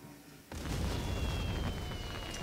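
Explosions from the real-time strategy game Army Men RTS: a sudden loud boom bursts in after a quiet half second, then a dense rumbling wash of blasts and debris continues to the end.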